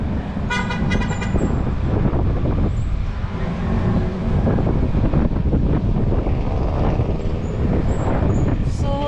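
Strong wind at Tagaytay overlooking Taal Volcano, a loud continuous roar buffeting the microphone throughout, with faint traffic sounds and a distant horn-like tone underneath.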